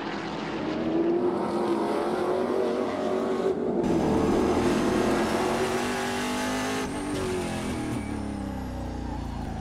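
Trans Am Camaro race cars roar past at Sonoma Raceway, loud engines rising and shifting as they come through a turn, with a second car following close behind and a brief tire squeal.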